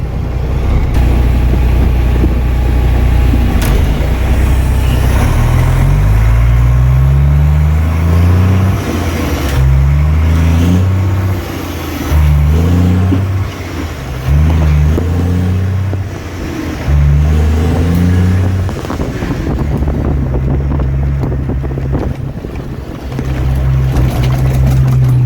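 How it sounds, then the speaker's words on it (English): A 1991 Peterbilt truck engine rumbles loud and close, droning low then revving up and dropping repeatedly as gears are shifted, with stepped rising pitch between shifts before settling into a steady run. "so you guys can hear the actual engine running when I'm shifting."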